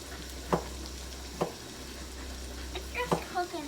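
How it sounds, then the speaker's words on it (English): Ground meat chili is stirred in a pan with a spoon, giving a few distinct scraping strokes over a steady low sizzle, close and moderately loud. "I just started stirring."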